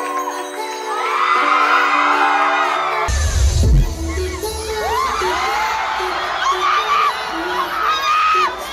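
Loud crowd cheering, screaming and whooping erupt at the opening notes of an EDM song, drowning out a steady synth line that plays alone at first and continues beneath the roar.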